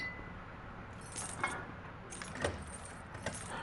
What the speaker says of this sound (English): You hear all the glass clicking?